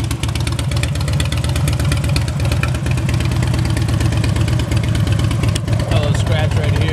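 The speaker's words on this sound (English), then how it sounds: "Bike runs really, really good." A 2007 Harley Davidson Dyna Super Glide motorcycle engine runs close and loud at a steady idle, with a fast, even, lumpy thumping pulse throughout and someone talking over it.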